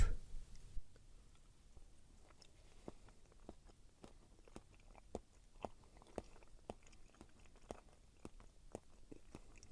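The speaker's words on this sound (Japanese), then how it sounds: "ではまずお刺身からいきましょう。" Someone chews fatty raw cherry salmon sashimi, soft wet bites and smacks repeating in an irregular rhythm, close and quiet with no talking.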